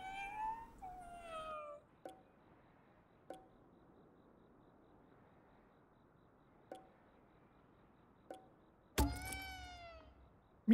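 A cat meows in the video game Ghostwire Tokyo: a drawn-out meow at the start, several faint short chirps spaced through quiet stretches, then a louder rising meow near the end.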